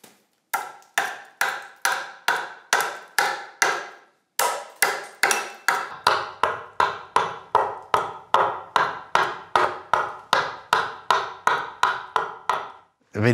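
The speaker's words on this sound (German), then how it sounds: "Die Dechsel verwächst regelrecht mit seiner Hand." An adze chopping wood to carve the seat hollow of a traditional wooden chair, loud close strikes in a steady rhythm, about thirty blows with a brief pause early on.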